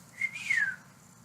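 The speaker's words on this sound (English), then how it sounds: "That was a terrible whistle." A person whistles a short, wobbly, off-key rising-and-falling note with dry lips, a thin breathy tone lasting under a second, close up and alone over a faint low hum.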